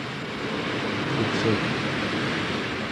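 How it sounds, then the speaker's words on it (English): Steady, roaring hurricane winds before Hurricane Andrew in Fort Lauderdale fill everything with a broad rushing noise that swells slightly in waves, loud and continuous. "I don't know how fast these winds are. You can hear them rolling in waves."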